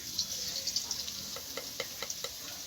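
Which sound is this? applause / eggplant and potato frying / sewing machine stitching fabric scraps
eggplant and potato frying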